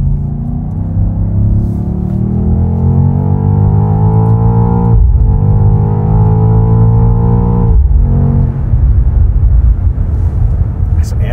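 An ABT-tuned Lamborghini Urus of about 840 hp accelerates on the road, a loud, steady engine drone from the cabin rising in pitch with two brief dips at gear changes.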